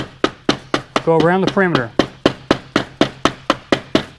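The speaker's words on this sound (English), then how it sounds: "We can grab our mallet again, our dead blow hammer. We're just going to tap." Dead blow hammer tapping a spark plug tube seal into the valve cover of a Chrysler 3.2L or 3.6L engine, a steady series of sharp, evenly spaced knocks about four per second, close and clear, with a short stretch of talk partway through.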